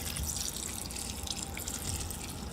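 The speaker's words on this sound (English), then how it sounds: "just take your water. You don't need a spray bottle, and just pour it all there" Water is poured over sprouting mung beans at close range, a continuous pouring with soft splashes, trickles, gurgles and drips.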